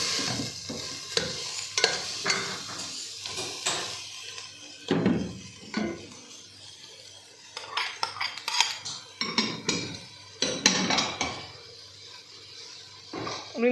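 Vegetables stirred and fried in a pot of chicken hot and sour soup: a spoon scrapes and knocks against the pan in irregular bursts over a soft sizzle, close and fairly loud, with no speech.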